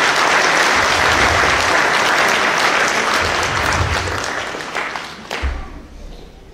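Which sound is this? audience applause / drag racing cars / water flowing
audience applause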